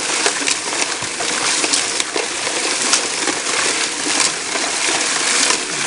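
Homemade bucket trommel running and washing rocks and clay with water. Continuous loud rushing water mixes with rattling, tumbling stone, with no talk.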